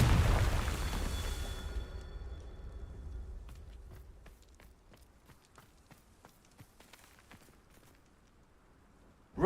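A Confringo fire spell blast in the Hogwarts Legacy video game opens with a loud burst, then fades into a softer game backdrop of scattered pops and footsteps.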